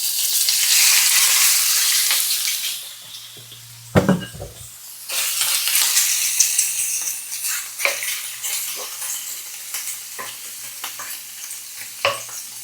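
Shrimp sizzling in a hot oiled pan while being cooked for fried rice, a steady close frying hiss interrupted by the clatter of stirring and a utensil knocking against the pan.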